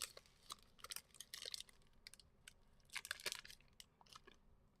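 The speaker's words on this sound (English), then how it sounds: "Hoping I'm not munching too loud." Close, quiet crunchy munching of food comes in irregular bursts of bites and chews, with no talking during these few seconds.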